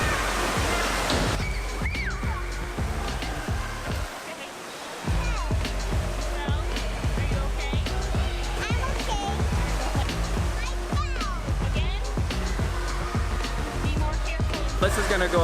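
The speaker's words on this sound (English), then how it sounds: "an indoor water park" Inside an indoor water park in Fargo, a constant roar of splashing and rushing water echoes through the hall, with voices and shouts layered on top throughout and a brief lull partway through.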